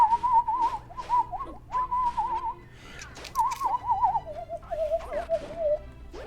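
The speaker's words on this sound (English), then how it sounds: "I should probably stop whistling." A person whistling a wavering tune in several close phrases with short pauses, over faint background music from a Zelda game, A Link Between Worlds.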